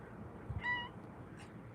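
A pet cat gives a single short, quiet meow in a room, a brief chirping call heard alone against faint background hum.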